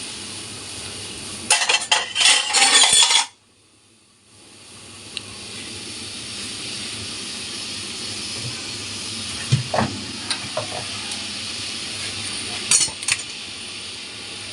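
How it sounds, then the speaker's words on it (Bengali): Curry gravy with paneer and potatoes bubbles in a pot, a steady steamy hiss that follows a loud rushing burst, with a few faint metallic clinks now and then. "ঝোল ফুটতে শুরু করেছে।"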